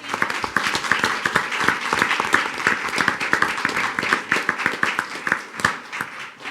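Clapping at a school board meeting in honor of fifth graders' parents, a modest crowd producing distinct, uneven hand claps close by, lively and continuous for several seconds.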